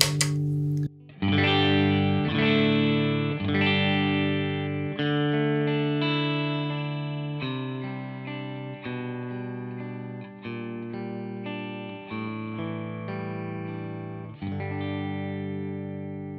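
Electric guitar runs through the Tubesteader Magnezium dual tube preamp pedal on its clean channel, playing a steady series of ringing chords with full, thick sustain; each strum is distinct and rings into the next.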